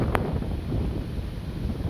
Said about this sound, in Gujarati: આ ફૂલ વાયરો આવી રહ્યો